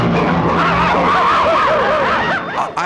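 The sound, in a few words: car arriving in a Porky Pig cartoon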